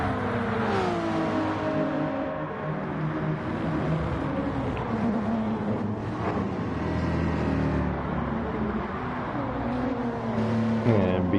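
Racing car engines roar and rev loudly throughout, with rising and falling pitch sweeps as cars accelerate and pass, a continuous dense motor sound with no talk.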